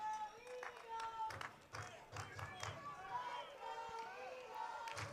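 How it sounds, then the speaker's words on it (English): Distant crowd at a small-town football game between the Mill City Eagles and Valley Generals, a broad steady murmur with scattered claps and whistles rising slightly, faint and under a close announcer's voice. "Crowd seems to be coming back to life"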